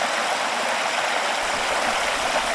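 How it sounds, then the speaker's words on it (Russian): A modest, chattering river near the Kubalar waterfall in Crimea, running with low water. The babbling is dense and continuous, close and fairly loud, with no voices. "Сегодня речка скромна, хотя и говорлива."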